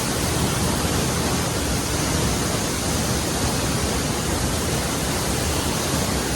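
A waterfall in Southeast Asia roars as a constant, dense wash of falling water, loud and close, with no other sounds standing out.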